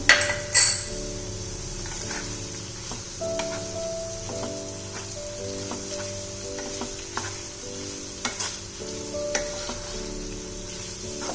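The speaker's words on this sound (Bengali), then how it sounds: "ভাজতে রাখা চিংড়ি মাছগুলো আমি এর মধ্যে অ্যাড করে দিলাম।" Fried prawns are stirred into a snake gourd curry in a pan, giving a quiet steady sizzle under repeated scraping and clinking of a spoon against the metal, with a sharp clatter at the start.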